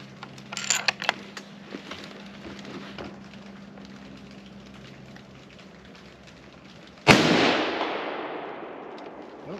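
A single sharp, loud report from a 220 Swift rifle firing a 40-grain ballistic tip at 4,350 feet per second toward a 220-yard steel plate, ringing and decaying over several seconds, preceded by faint clicks and quiet outdoor background.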